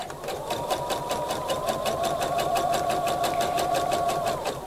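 A sewing machine chain piecing quilt strips runs in one continuous burst, its needle ticking in a fast steady rhythm over a motor hum, close and fairly loud.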